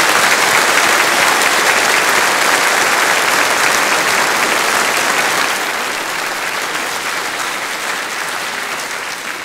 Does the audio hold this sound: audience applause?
yes